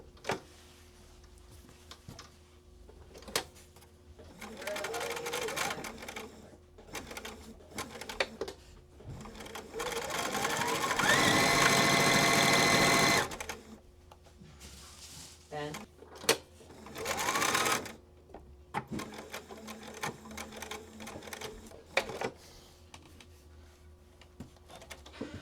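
A sewing machine stitches a pocket lining to a pocket front in a long steady whirring run, louder and denser in the middle, with shorter bursts of stitching before and after and a voice talking over parts of it.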